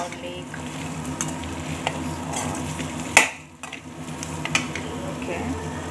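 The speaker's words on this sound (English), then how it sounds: "If we added the potatoes, saute it well and mix it with the onion, garlic." Potatoes sauté with onion and garlic in a pan under a continuous loud sizzle, with intermittent spatula scrapes and one sharp clink against the pan partway through, close up.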